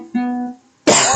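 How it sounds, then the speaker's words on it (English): A single cough from a singer at an online open mic, one short throat sound followed by a brief pause and then a louder, harsher burst close to the microphone. "Nothing like getting the coughs right at the end of the song."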